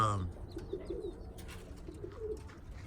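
Birmingham Roller pigeons cooing softly nearby, a few low murmuring coos over faint outdoor ambience with light chirps, and a brief voice at the start.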